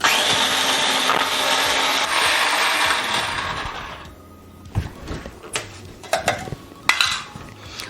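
Blender whirring as onion and vegetables are pureed into a sofrito for Panamanian chicken tamales, a loud steady grinding for about four seconds, then stopping into scattered clattering and knocks.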